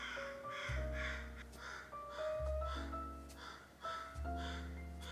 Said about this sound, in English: Wow, that bird was loud.